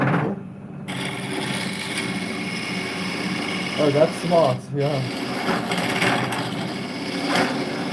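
Lathe turning a resin bowl, hollowing the centre with a tool, a steady whirring hum running throughout with scraping texture, while people talk over it.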